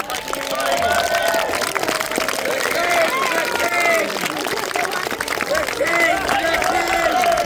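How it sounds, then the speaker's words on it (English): Applause and crowd noise from spectators after a Battle of Shrewsbury re-enactment, a dense steady clapping wash filling the whole stretch outdoors, with a voice heard over it. "with your round of applause for all those involved"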